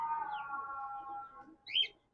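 A pigeon coos softly close by in a quiet setting, a low sustained call followed by a brief higher chirp from another bird.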